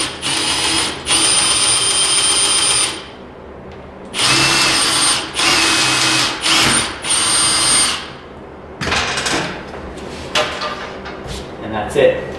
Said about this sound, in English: with this jig, you use a 3/16 drill bit